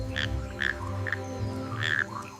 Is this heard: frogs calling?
yes